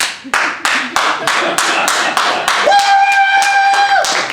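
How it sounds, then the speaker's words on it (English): A single person claps hands alone, about a dozen sharp, evenly spaced claps close up, with a sustained whistle-like tone entering partway through. "I'm going to start off with actually giving you guys a round of applause, even if I'm giving a round of applause by myself"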